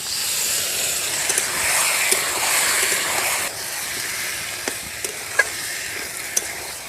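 A splash of water goes into a hot pan of chicken biryani masala, raising a close, steady sizzling hiss, with scattered sharp clicks from stirring and scraping against the pan.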